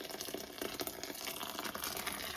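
Water is poured into a soup pot for broth, a steady, fairly quiet splashing rush with no talk.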